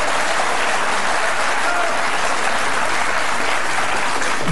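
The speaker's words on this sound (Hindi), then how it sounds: "जोरदार तालियां बजाइए" Loud, sustained applause from a large audience fills the whole stretch as a dense, steady wash of clapping with no pauses.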